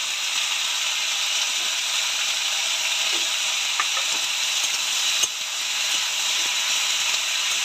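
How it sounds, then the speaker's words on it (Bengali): Mourala fish frying with onion stalks in a pan, giving a steady, even hiss of sizzling oil with a few faint scrapes and taps of stirring, one slightly sharper knock midway. "পেঁয়াজ কলি দিয়ে নেড়ে চেড়ে ভালো করে ভাজা ভাজা করবো"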